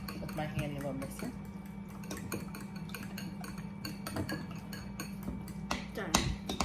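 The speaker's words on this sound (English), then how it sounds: "Do a little mix with my handy little mixer." A small handheld electric mixer whirs steadily through a batter for pumpkin raisin nut bread, its low motor hum running under clinks and taps against the bowl.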